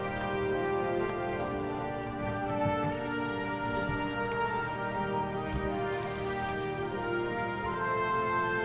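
Sustained video game soundtrack music plays with steady tonal harmonies at an even level, with no talking over it.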